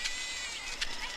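Sheep bleat faintly at a distance with a couple of brief wavering calls, set against a steady rustling background with no talk.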